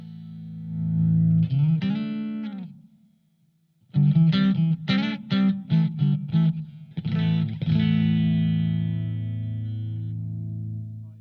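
A clean electric guitar through a Blackstar ID Core V3 amp, mic'd in stereo, played in short phrases, with a held note, a brief pause, then a run of plucked notes and a sustained chord ringing out.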